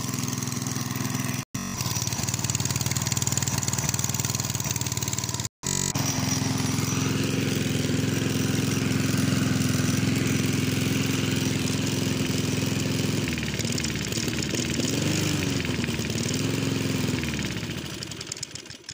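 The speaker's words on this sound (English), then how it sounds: "That is the lawnmower, my little mountfield, running again." A Mountfield lawnmower with a Tecumseh engine runs steadily and loudly close by for about nineteen seconds, with two short cut-outs early on, and the pitch wavers slightly near the end.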